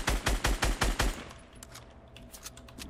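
Gunfire in the video game Fortnite: a close, rhythmic burst of six or seven evenly spaced heavy shots, followed by scattered quieter, more distant shots.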